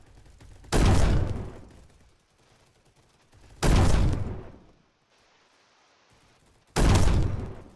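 Three loud pistol shots ring out in a video game shooter, evenly spaced about three seconds apart, each a sharp close blast with a short decaying tail.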